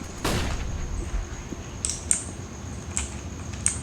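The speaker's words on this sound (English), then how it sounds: "Deploying flashbang." A flashbang grenade goes off in Counter-Strike: Global Offensive, a sharp broadband burst near the start followed by ringing high tones and a few short clicks and pops under a steady hiss.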